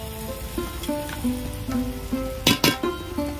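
Ginger paste sizzles and fries in a hot pan while mutton curry is cooked. A steady close sizzle runs under sustained tonal sounds, broken by two sharp louder bursts near the end.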